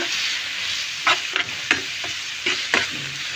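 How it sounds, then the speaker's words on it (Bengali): Chopped garlic frying in hot oil with turmeric and salt for a coconut and snake gourd bhaji, a constant close hiss broken by several quick spatula scrapes against the pan, no talking. "আর এখানে হলুদ আর লবণ, স্বাদ মতো লবণ দিয়ে একটু ভাজা ভাজা করে নেব।"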